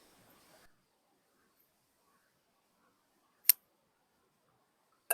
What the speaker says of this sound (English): Let me switch to the scissors since I'm so close.